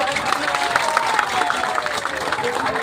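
Audience clapping at an event held for soldiers, a loud, steady burst of applause with crowd noise and a voice partly underneath.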